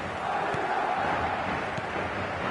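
Stadium crowd in a football video game, a broad steady roar of many voices with a faint sustained chant, continuous and even without distinct peaks.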